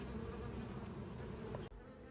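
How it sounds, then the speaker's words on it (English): Honey bee buzzing steadily at close range as it emerges from its comb inside a hive, a continuous faint hum that cuts off abruptly near the end, with no talk. "We've got a bee emerging from its comb."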